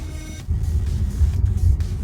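Low road rumble and hum inside a Waymo robotaxi, heard from the back seat as the car rolls along, fairly steady with slight swells in intensity and no one talking.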